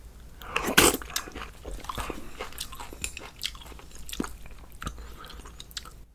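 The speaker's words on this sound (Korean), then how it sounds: "협찬받은 삼합 곱창 순대전골 한번 먹어보겠습니다" Close-up chewing of a tripe and sundae sausage stew (gopchang sundae jeongol) with scallions, chili and ramen noodles: a sharp loud bite early on, then irregular wet, crunchy chewing.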